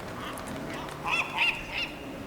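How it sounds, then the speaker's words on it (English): A bird calls inside a walking simulator video game, three short honking cries in quick succession over a steady ambient background. "I thought it was a bat. No, but it was a bird"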